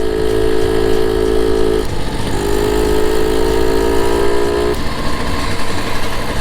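A Solex 6000 moped engine runs steadily while riding, giving a loud, continuous buzzing drone with a high tonal whine that briefly drops and returns, with no speech.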